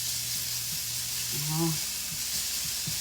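Steady sizzling hiss of sautéing in a frying pan while minudo is being cooked, with faint stirring clatter underneath and a brief short exclamation from a voice partway through.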